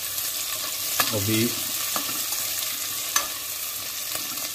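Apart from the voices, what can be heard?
ingredients roasting in a pan for khichdi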